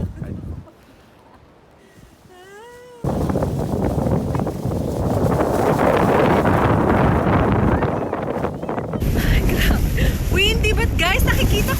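Very strong wind on the new skywalk in Shizuoka, Japan, roars and buffets the microphone in a loud, continuous rush after a quieter opening, with a voice briefly heard early on.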